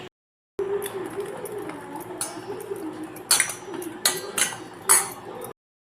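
A spoon clinks and scrapes against a bowl while flour batter with cornflour is stirred, with several sharper taps toward the end, close and fairly quiet.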